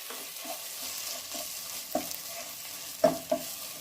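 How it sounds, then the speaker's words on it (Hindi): Paneer kofta masala frying in oil over a medium flame, a steady soft sizzle with scraping stirs and a few sharper clatters from the spoon near the end. "मीडियम फ्लेम में ही इसे हम फ्राई करेंगे"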